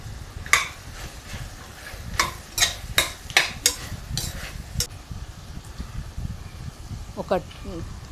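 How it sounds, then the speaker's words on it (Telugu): Taro chunks fry in oil in a pan for a mutton curry, with steady background sizzle and a series of sharp spoon-against-pan clinks and scrapes from stirring; a brief voice sounds near the end. "వేయించిన తర్వాత చామగడ్డను కూడా ఇలా నూనెలో వేయించుకోవాలి"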